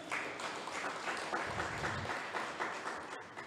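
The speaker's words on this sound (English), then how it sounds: "Can we give God a big round of applause?" A church congregation applauds together at a sermon, a steady wash of clapping from a crowd that holds evenly for several seconds before tapering at the end.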